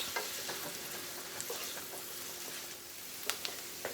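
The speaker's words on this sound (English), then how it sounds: "we've been sauteing about 5 minutes" Vegetables sautéing in a pan with a pinch of salt give a faint, steady sizzle, broken by soft scrapes and taps of a spoon stirring.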